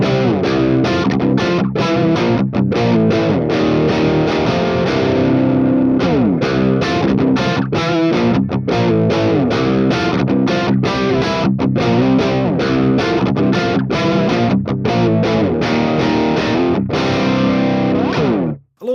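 Electric guitar played through the high gain channel of an ENGL Fireball IR amp, dialed back to a low gain tone: steady crunchy strummed chords with a slight chorus-like shimmer, loud and continuous with no voices, ending abruptly.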